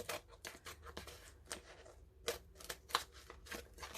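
Scissors snip quietly, again and again, through the edge of a doughnut-themed cake decoration. The short crisp cuts come in an irregular run, close but faint, with no talking.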